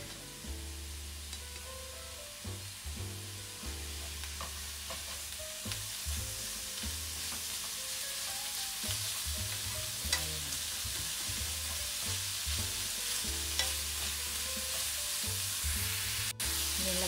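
Food sizzles and fries in a pan as it is stirred, giving a continuous hiss with repeated scraping strokes of the utensil, close and steady, with no talking.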